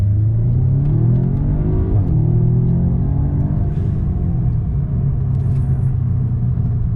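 A 2016 Audi S3 with a stage 1 tune and DSG tune revs loudly and close, pitch climbing then dropping at a gear change around two seconds before pulling up again steadily.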